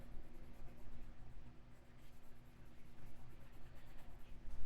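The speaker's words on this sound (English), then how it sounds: "I'm going to take the side of the pencil and just very lightly go over the whole thing." Side of a colored pencil lightly shading across paper in a gothic coloring book, a steady close, soft scratchy rasp with gentle strokes running continuously without a break.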